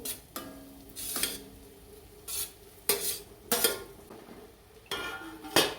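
A spoon scrapes and clinks against a pan while egg bhurji mixture is stirred, giving several sharp, close strokes at an irregular rhythm over a faint sizzle.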